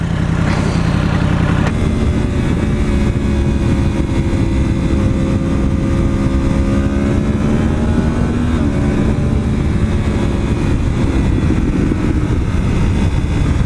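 Engine of a 2016 Yamaha R1 sport motorcycle fitted with an Akrapovic GP slip-on exhaust, riding over gravel: a loud, continuous engine drone with rising and falling pitch as the throttle changes, constant and close throughout.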